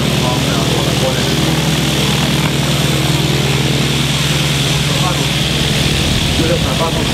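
A Blériot XI with a 50-horsepower rotary engine and propeller runs up for takeoff, a loud steady drone with a buzzing rumble that fills the whole stretch, with voices faintly under it.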